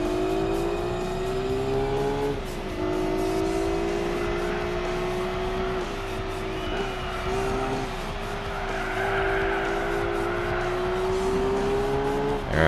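A race car laps Twin Ring Motegi in Gran Turismo 4, its engine droning loud and steady with shifting pitch through gear changes, and tires scrubbing and squealing through the corners.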